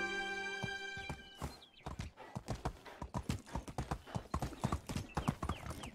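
Horse hooves clip-clop in a steady, close walking rhythm while riding in the medieval survival game Medieval Dynasty, after a brief tonal sound at the start, with no talking.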